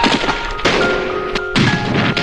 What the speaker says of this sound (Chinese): 炮火成功轰炸敌军